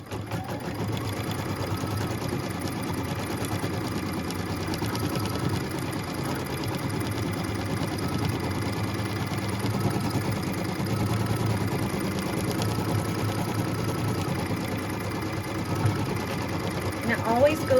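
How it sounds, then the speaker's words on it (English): An embroidery sewing machine stitches a tack-down line that secures flexi foam to stabilizer for a Christmas ornament, giving a steady, fast mechanical whirring hum throughout at close range. "it is time to stitch the tack down line"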